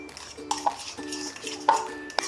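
A spoon mixes milk powder into Greek yogurt in a bowl, with several distinct clinks and taps of metal against the dish between softer scraping sounds, close and clear.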